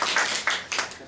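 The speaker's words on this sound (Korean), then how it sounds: "박수 한번 쳐주세요." Audience applause at a community meeting, a short burst of clapping from a crowd with a few louder swells, fairly close and heard alone.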